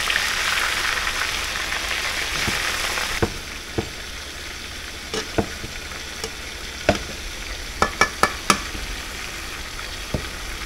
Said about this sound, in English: I am cooking some fried chicken and coconut oil.